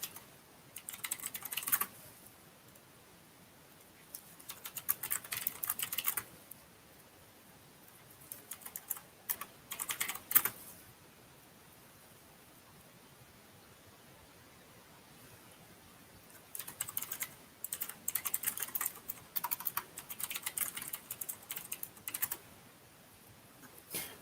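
Typing on a computer keyboard in quiet bursts: short runs of rapid key clicks separated by pauses, fairly close and soft, with no talk.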